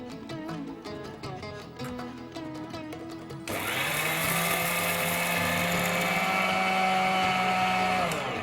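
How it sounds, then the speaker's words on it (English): Roasted spices for sambhar powder are ground in an electric grinder, a few pulsed rattles at first, then a loud, continuous high whine with a steady motor drone, close by and with no talking. "So now we're going to grind this to a fine powder."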